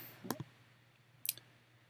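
Two quiet mouse clicks on a computer, spaced about a second apart, each a short doubled tick against a faint background hum.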